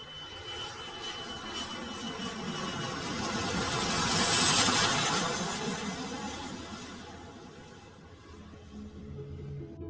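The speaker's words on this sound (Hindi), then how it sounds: "रात के लगभग 9 बजे कैप्टन सभी रूटीन चेक कंप्लीट करने के बाद इंजन को फायर करते हैं और फ्लाइट 236 लिस्बन जाने के लिए रवाना हो जाती है।" Jet airliner engines whine and roar as the plane departs, a broad rumble that swells to a loud peak midway and then slowly fades, steady and distant-sounding, with no speech.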